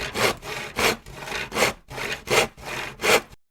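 A hand saw cuts through wood in a steady back-and-forth rhythm, about seven close, loud rasping strokes in quick succession with no talk.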